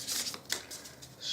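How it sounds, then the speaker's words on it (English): A deck of cards for a Harry Potter Hogwarts Battle board game is shuffled in a quick, soft riffling burst of papery flutters, close and alone. "Shuffle, shuffle, shuffle Hermione's deck"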